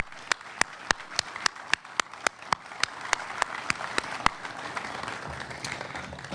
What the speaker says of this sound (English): I'd like to give them a round of applause for all the good work that they've done.